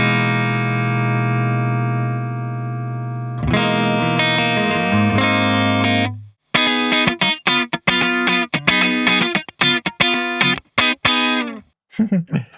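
Electric guitar through an Orange Gain Baby 100 solid-state amp with heavy compression: sustained held chords, then choppy, tightly squashed funky strums and clean single-note stabs, played alone at close range.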